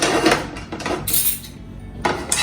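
A metal pan clatters and clanks against other cookware in a kitchen, several sharp knocks and scrapes in quick irregular succession, close and fairly loud.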